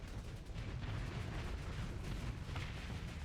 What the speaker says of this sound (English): Torpedoes going in from the dagger fighters of the Heron.